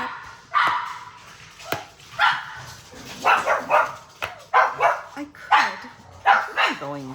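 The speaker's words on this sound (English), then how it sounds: "my dogs are going crazy" Several dogs bark excitedly at a delivery, loud and close indoors, firing off repeated sharp barks and yips in uneven bursts over several seconds.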